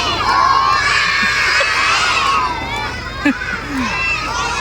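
A group of children at a fire station shouts together in unison, a loud, sustained crowd of young voices filling the whole moment, with a brief sharper burst near the end.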